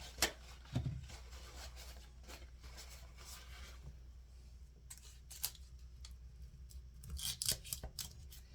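A knife cuts through a marbled flan in a quiet kitchen, giving soft scraping and tapping contacts, sparse clicks and a few sharper bursts near the end, all faint and close, with no talking.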